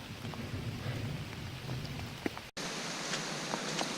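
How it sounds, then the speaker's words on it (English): Steady rain falls on a forest trail during a hike, a dense continuous hiss with occasional heavier drops, briefly cut off once before resuming just as loud. "So we are continuing on, and so is the rain."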